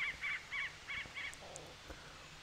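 A creature or bird call in the Pikmin 4 video game: five short, bright, repeated chirping calls in quick rhythm, clear and moderately loud, then fading into quieter game ambience with a few faint blips.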